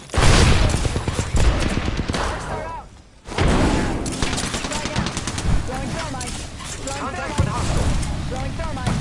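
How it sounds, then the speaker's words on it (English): Gunfire in the Apex battle royale video game: dense, loud overlapping bursts of automatic fire and impacts that run almost throughout, briefly dropping out midway, with an in-game voice speaking over the shooting. "The enemies are shooting at me."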